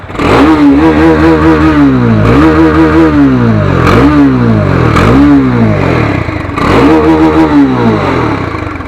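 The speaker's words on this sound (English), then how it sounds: "That's the exhaust note of Dominar 400." Loud Bajaj Dominar 400 motorcycle exhaust revving repeatedly up and down, each throttle blip rising and falling in a rough, throaty rhythm up close.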